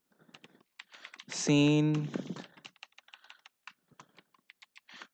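Typing on a computer keyboard while entering Unity scene-management code: light, rapid key clicks run throughout, briefly under a man's spoken word in Hindi.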